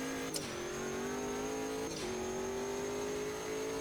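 Sigma P1 race car in Automobilista 2 at Kyalami, a 500-odd brake horsepower machine, holding a steady engine drone with pitch rising gradually and two brief dips around gear changes, heard from onboard at moderate level.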